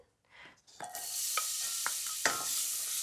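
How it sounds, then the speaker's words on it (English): A close sizzle as one chopped onion hits about two tablespoons of hot olive oil, settling into a steady frying hiss with a few stirring clicks and scrapes. "I'll start frying off 1 onion."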